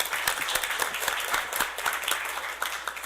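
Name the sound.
audience applause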